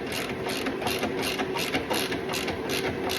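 A ratcheting wrench tightens down a shift light mount with a rapid, steady clicking that runs continuously and close, with no talk.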